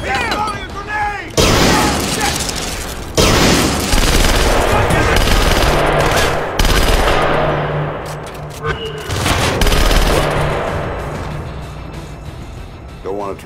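Splinter Cell: Conviction combat, with a thrown grenade and gunfire: a sustained roar of blasts and rapid shooting dominates, with sharp cracks and a deep rumble, while voices shout briefly before and during the chaos.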